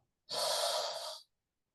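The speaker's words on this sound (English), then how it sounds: "Breath in. And breath out." A single long, deep exhalation, close and breathy, rising sharply, holding steady for about a second, then cutting off into silence.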